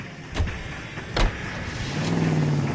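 A car engine in the video game L.A. Noire hums steadily with two sharp knocks early on, and a rising motor tone near the end, like a vehicle starting to pull away.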